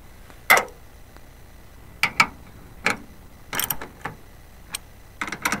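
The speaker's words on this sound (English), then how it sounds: "just doing up the bolts there" Bolts being tightened on a van sliding door roller on a Vivaro, Trafic or Primastar, a series of sharp metallic ratchet clicks and taps in irregular bursts, close and fairly loud.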